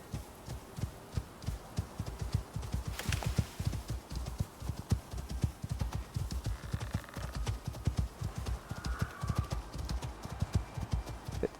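Horse hooves clip-clop in the survival video game Icarus, a steady rhythmic run of close, distinct thuds continuing without pause under faint background ambience.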